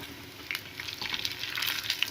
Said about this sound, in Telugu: ఇలా ఆయిల్లో ఫ్రై చేసుకున్న తర్వాత ఎర్రగా వేగిన తర్వాత